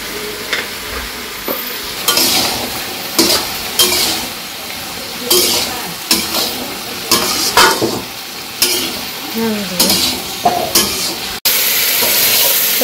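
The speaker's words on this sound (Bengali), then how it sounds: "তো এই পাশে সবজিটা যে ভালো করে ভেজে নিচ্ছি" Vegetables frying with turmeric in a pan for a Bangladeshi village vegetarian meal, loud close sizzling with frequent metal-on-pan scrapes and stirring clatter in irregular bursts, no voices.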